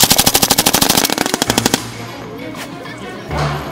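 A military M240 machine gun fires a rapid, loud burst of evenly spaced shots that lasts about a second and a half. The burst ends abruptly and gives way to outdoor rumble and distant noise.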